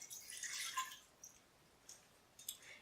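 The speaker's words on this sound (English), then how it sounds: "You want to first start by putting a cup of water inside of your pot." A cup of water poured into an Instant Pot gives a faint, close splashing trickle for about a second, followed by a few soft drips in a quiet room.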